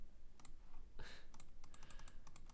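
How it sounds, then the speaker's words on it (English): Quick, light taps on a phone touchscreen come in an irregular run of clicks, faint and close, with one louder soft thump early on. "sometimes when you're typing on the screen"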